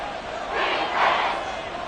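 A football stadium crowd on its feet for a third-and-seven play, a broad sustained roar swelling twice and never dropping off, loud and continuous with no clear voices on top.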